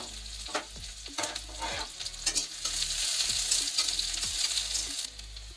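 Onion frying in a kadhai for jackfruit sabzi, a loud, dense sizzle that swells over a few seconds, punctuated by rhythmic spoon scrapes and taps against the metal, heard up close with no speech.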